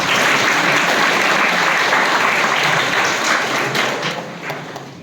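Students in a school assembly hall clap together in a dense, sustained round of applause that holds strong and then thins out near the end.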